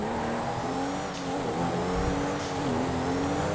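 A Porsche 911 Turbo S with 540 horsepower, driven through city streets in GTA 5, holds a steady engine drone with shifting pitch and slight revs, loud and continuous throughout.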